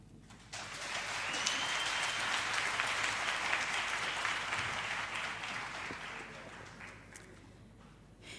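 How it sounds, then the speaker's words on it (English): An audience applauds after a speech at a University of KwaZulu-Natal campus safety launch, clapping swelling quickly, holding steady and then slowly thinning out toward the end. "May we give Mr. Sisanda Dlamini another round of applause"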